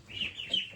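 Young ducklings give a few high, thin peeps in quick succession, close by and fairly soft.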